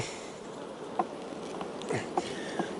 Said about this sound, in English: how much bees are flying in and out